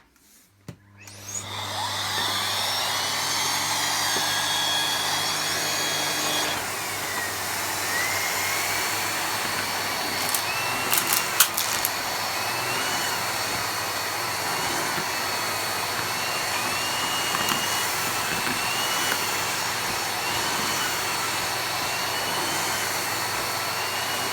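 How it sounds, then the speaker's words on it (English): A Miele vacuum cleaner roars to life and runs on its boost setting, a loud sustained whine with shifting pitch and brief clicks partway through. "I want to do this with the same vacuum but using the boost function"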